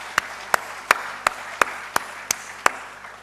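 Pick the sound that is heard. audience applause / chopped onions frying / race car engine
audience applause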